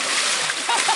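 Horse splashing while standing in cold water, a brief steady wash of churning and splattering water, close and loud, with a voice faintly present.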